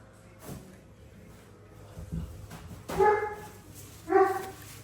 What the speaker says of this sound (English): Your dog's still barking.